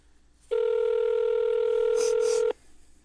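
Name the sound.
telephone call ringing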